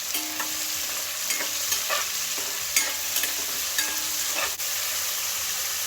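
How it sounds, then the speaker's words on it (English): Vegetables for Mexican rice sizzle steadily in a hot pan while a spoon stirs them, scraping clicks and scuffs recurring irregularly over the continuous close frying hiss, with no talking. "I'm going to give it a quick stir."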